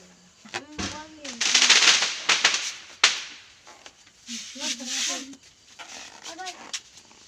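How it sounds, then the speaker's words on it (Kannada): Diwali firecrackers burst in sharp, irregular cracks and rapid crackling volleys, some close and loud, mixed with people talking and calling out between the bangs. "ತುಂಬ ವರ್ಷಗಳಾದಮೇಲೆ ಪಟಾಕಿನ ನೋಡ್ತಾ ಇರೋದು ನಾನು."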